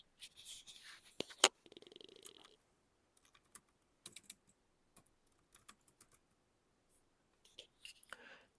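Computer keyboard typing a search term, short bursts of close, quiet key clicks separated by pauses, with no talking.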